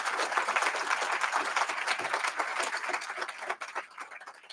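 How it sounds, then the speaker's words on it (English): Audience at a prisoner reentry program graduation ceremony breaks into sustained applause, a steady wash of many hands clapping that holds for several seconds before thinning slightly near the end. "Can we please give them all a big, gigantic round of applause?"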